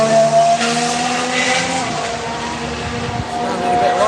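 A race car on a testing day at the Barcelona circuit passes with a loud, raspy engine roar that shifts in pitch as it goes by, while a person talks close by.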